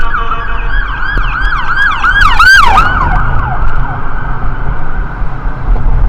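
A loud AMR ambulance siren wails nearby outside MedStar hospital, sweeping rapidly up and down in a yelping pattern over steady traffic rumble.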